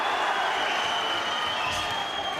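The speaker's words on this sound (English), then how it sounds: "The fans are really screaming here in the York or Bethnal Green." Boxing fans in the crowd at York Hall, Bethnal Green, scream and cheer during a British 140lb title fight, a dense, steady roar of voices and applause that fills the hall without a break.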